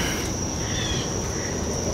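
Crickets chirp steadily in a continuous high, shimmering trill, with a faint outdoor hum underneath and no voices.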